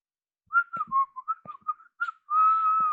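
Bright melodic whistling from a character in the Steam Prison video game, a run of short rising and falling notes ending in one long sustained tone, clear and close with no talk over it.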